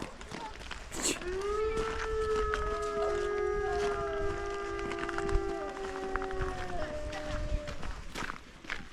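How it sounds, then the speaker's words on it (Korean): A long, wavering animal howl with layered harmonic tones rises and holds for several seconds, then slowly fades, at a snow-covered zoo in Hokkaido, with faint background noise throughout. "이게 하울링이구나"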